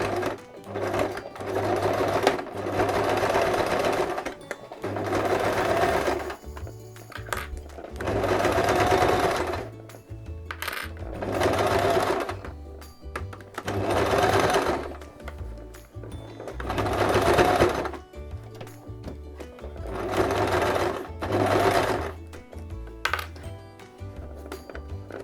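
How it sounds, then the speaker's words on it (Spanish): A sewing machine stitches a zipper onto a mini crossbody bag using a zipper presser foot, backstitching at the start and end. It runs in about six steady, close bursts of fast whirring, with short pauses between them. "Colocamos en la máquina de coser"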